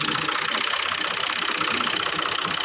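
A 2006-model tractor, a 480, idles at harvest time in Lapar, its steady mid-pitched engine rumble running loud and close throughout with a slight knocking pulse and no voices.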